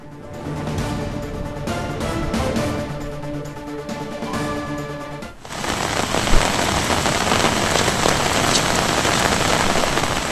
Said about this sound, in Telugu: ఆంధ్రప్రదేశ్లో వర్షాలు దంచి కొడుతున్నాయి